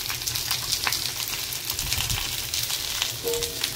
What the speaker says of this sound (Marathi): इथे मी तव्यावर तेल टाकून ठेवलेलं आहे। आता हा मी मासा ह्याच्यावर ठेवणार आहे